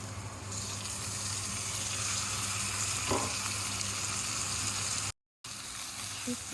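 Chopped tomatoes sizzle in a pan for a dried fish (shutki) chutney, a steady close crackling fry with a stirring scrape, broken by a brief silent gap near the end.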